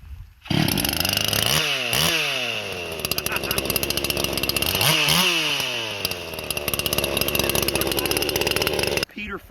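Ported Poulan chainsaw with a muffler mod roaring close and loud, revved up twice to a high buzzing scream and held at full throttle for several seconds, with talk faintly underneath.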